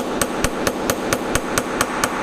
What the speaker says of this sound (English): And then you can insert the hammer head.